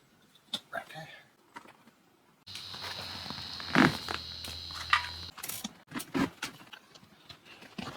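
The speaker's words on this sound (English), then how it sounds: "need to go ahead and take the screws for the adjustment and the electric controls out here" A power driver whirs for about three seconds while removing the seat adjustment screws from a 1995–99 Chevy truck seat, close by, with scattered clicks and handling knocks before and after.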